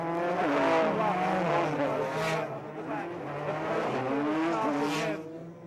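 Racing karts at the 1994 Super Series final round at Fulbeck roar steadily through and out of a corner, high buzzing engines rising and falling with revs, heard close from a camera car under a commentator's voice.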